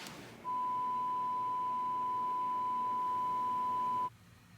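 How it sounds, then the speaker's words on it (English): A buzzer wakes a sleeper during a dream experiment: one steady, high electronic tone that holds unbroken for about three and a half seconds before stopping, clear against a quiet room. "Woken up by the buzzer, Suzuki"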